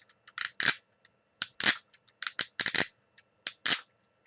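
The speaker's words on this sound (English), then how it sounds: "it makes that really annoying clicking sound. It's supposed to emulate an engine roaring" Sharp plastic clicks from the wheels of a Turbo Falcon Megazord toy come in uneven bursts, some doubled or tripled, with silence between groups; crisp, close and mechanical.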